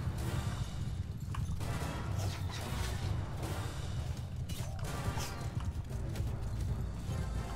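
Horse hooves in the medieval battle game Mount and Blade 2, a steady clip-clop of galloping under a constant low rumble of battle noise, with occasional crashes and a faint whinny.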